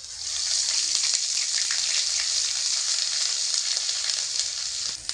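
Ground garlic paste added to hot oil with fried ginger paste, sizzling loudly and continuously with light stirring crackles throughout.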